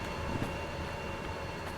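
A locomotive in Derail Valley slowly begins to pull a train, producing a steady, dense rumble and hum of the engine that holds at an even level without distinct clanks.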